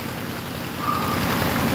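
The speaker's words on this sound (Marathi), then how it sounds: "पाणी खूप जास्त आहे डोक्याच्या वरपर्यंत पाणी आहे" Deep floodwater, waist-high or more, rushes along a street in Sanpada Sector 5, Navi Mumbai, making a continuous, loud, close wash of churning water that swells slightly toward the end.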